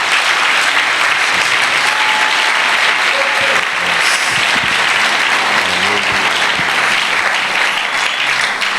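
A church congregation applauds to acclaim the Lord in a steady, dense round of clapping that stays loud from start to finish, with a few voices calling out beneath it.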